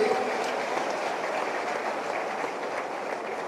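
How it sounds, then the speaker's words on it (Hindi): Sustained crowd applause at a political rally in Panipat, a dense, steady wash of clapping from a large audience with no break. "मोदी जी के लिए और सारे देश के लिए जोरदार तालियां पानीपत से जाए"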